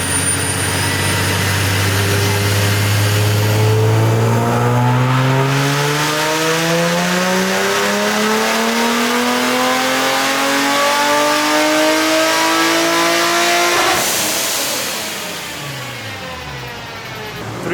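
Supercharged Infiniti G35 revving hard on a dyno, its loud engine note climbing steadily through a long sweep before cutting off near the end and dropping away.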